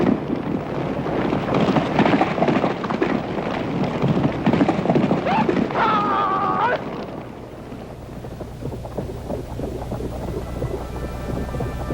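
A large herd of horses in Shandan, China, crossbred from Mongolian ponies and Kazakh horses, thunders past in a dense, continuous rumble of hoofbeats that is loud at first, then drops to a softer patter.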